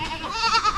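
A goat on a farm bleats in a wavering, nasal cry that carries through the whole short moment, fairly close and clear with a slight tremble in the voice.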